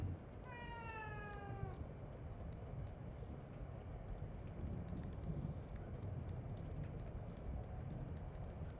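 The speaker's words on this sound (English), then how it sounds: "Where you going, kitty?" A cat in The Evil Within 2 lets out a short run of rising meows early on, fairly clear over a steady low game-ambience rumble that carries on afterward.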